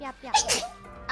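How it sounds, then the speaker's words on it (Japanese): A single sharp sneeze erupts from a streamer between short spoken exclamations, loud and close, followed by a brief voiced sound afterward. "くしゃみ出ちゃったわ。"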